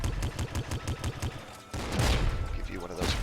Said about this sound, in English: One shot from the Seeker shotgun